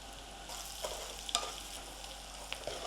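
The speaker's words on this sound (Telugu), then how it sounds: "కొంచెం ఫ్రై అవ్వనివ్వండి మంచిగా." Garlic and curry leaves frying in oil for an onion pickle, a soft steady sizzle with occasional small crackles and stirring scrapes, fairly quiet and close.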